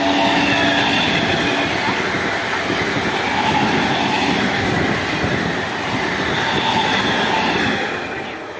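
The Rajdhani Express thunders through Belmuri station at speed, a loud continuous roar of rolling wheels and rattling coaches that eases slightly at the end.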